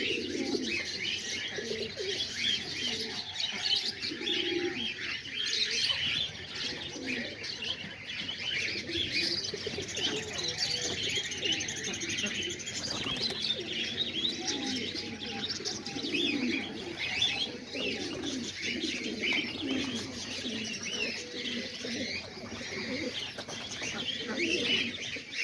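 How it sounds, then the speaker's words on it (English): Homing pigeons coo and chirp continuously in a loft, a dense layered murmur of soft calls with occasional wing flutters, steady and close throughout with no speech. "So yeah, there's all the pigeons."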